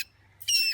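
A mink gives a loud, harsh, high-pitched squawk that bursts out near the end after a brief opening chirp, close and shrill.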